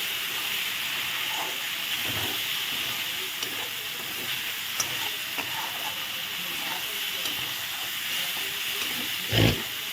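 Steady loud hissing sizzle as water goes into a pan of fried spice paste for Bengali doi katla fish curry, a continuous broadband frying hiss with a brief louder clatter near the end.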